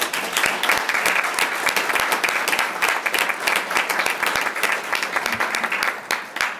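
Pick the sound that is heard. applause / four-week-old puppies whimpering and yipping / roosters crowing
applause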